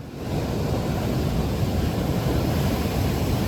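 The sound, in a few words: ocean waves coming in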